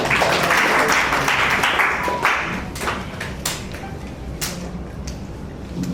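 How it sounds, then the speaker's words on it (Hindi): Applause from an audience at a team captains' meeting draw, a dense steady clatter of clapping that fades slightly toward the end, with a few louder individual claps. "और यूनियन बैंक के लिए जोरदार तालियां"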